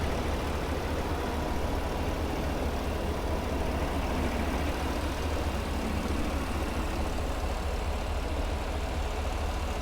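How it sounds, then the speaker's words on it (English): 2015 Cadillac Escalade ESV Platinum with a Chevrolet V8 engine idling, a steady low rumble with broad even noise holding constant throughout, close and alone without talk. "Chevrolet V8 engine."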